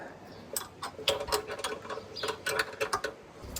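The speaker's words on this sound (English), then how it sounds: "the best thing to do here is just with a small spanner, 10mm spanner, is just take these up" A 10mm spanner loosens the cylinder head nuts on a classic Fiat 500, giving a run of close, sharp metallic clicks and ratcheting ticks in uneven bursts, with no talk.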